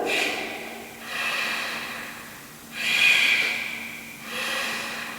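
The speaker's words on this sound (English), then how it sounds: "we pull the belly back, snort the breath out." Rhythmic forceful yoga breaths snorted out through the nose while pulling the belly back, four long airy exhalations repeating at a steady pace, close and with no speech.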